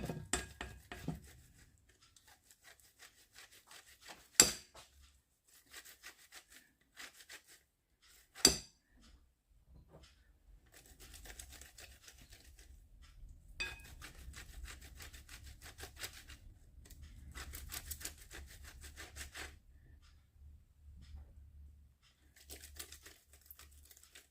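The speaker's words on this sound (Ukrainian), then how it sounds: "І ось тепер на таку ж саму крупненьку решіточку я натираю яйця." Boiled eggs rubbed over a coarse grater come through as faint, soft rasping strokes in short bursts, with a couple of sharp knocks and quiet pauses between.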